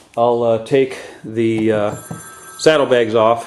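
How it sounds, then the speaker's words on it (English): A telephone rings faintly in the background with a steady, thin tone, mostly buried under someone talking close up. "sorry about the phone in the background there"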